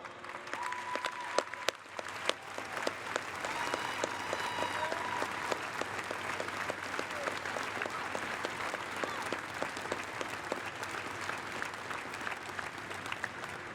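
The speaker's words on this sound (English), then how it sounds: "stand up and receive our applause" Sustained applause from a crowd at the christening ceremony for the submarine Delaware (SSN 791), honoring the crew's families; steady, dense clapping carries on for the whole stretch with no talk over it.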